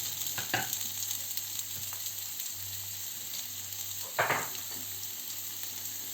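Finely chopped onion sizzling and frying in a pan, a steady hiss throughout with a few louder crackles and stirring scrapes, close and continuous, no talking.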